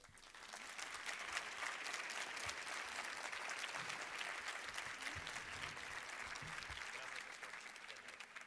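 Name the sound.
audience applause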